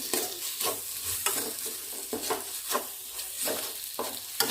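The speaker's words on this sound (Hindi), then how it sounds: "डाल के थोड़ी देर के लिए और फ्राई करेंगे। भूनेंगे मसाला को अच्छे से।" Masala frying in a pan for a mutton kima fry while being stirred: a constant bright sizzle broken by repeated scraping strokes of the spoon, close up, with no voices.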